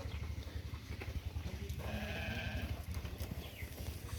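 A sheep gives a single quiet bleat midway through, from a pen of penned sheep on a rural farm, against a soft background hum.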